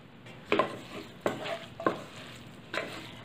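Green garlic rice being mixed in a hot pan, heard as four separate scraping stirs with a low sizzle between them, close and fairly quiet, with no speech.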